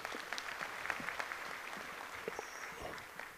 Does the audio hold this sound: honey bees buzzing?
no